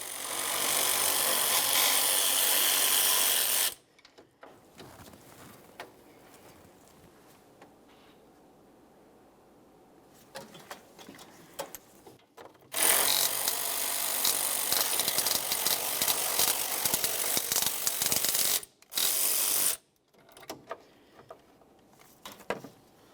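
A 10mm ratchet or power driver removing emblem mounting hardware on a 1999-2006 Chevrolet Silverado 1500, loud buzzing runs of several seconds separated by quieter clicks and handling noises.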